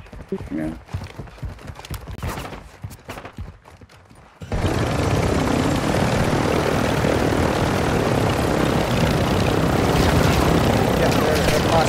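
Two helicopters in a video game: a quiet, busy opening gives way to a sudden, sustained loud rotor and engine roar that continues to the end.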